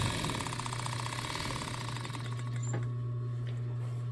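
Bonis A16 industrial fur sewing machine stitching a coyote fur seam, a fast steady mechanical whir with a constant low hum and rapid rhythmic ticking, close and continuous, easing off near the end.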